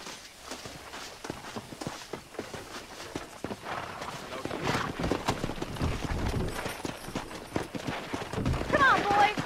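Horses clip-clop along in the Red Dead Redemption open world, hooves thudding in a busy, uneven rhythm under voices and game ambience, with a short whistle-like cry near the end.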